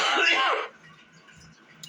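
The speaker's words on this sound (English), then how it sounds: "my body's just so used to coughing that I cough" A single short cough from a woman recovering from illness, close and loud, then quiet room tone.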